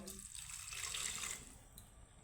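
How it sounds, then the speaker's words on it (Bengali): A little water pours into a pan of vegetarian brinjal curry whose spice paste has been fried until the oil separates, a brief steady splashing rush that fades out near the end. "এই পর্যায়ে আমি দিয়ে দিব সামান্য জল"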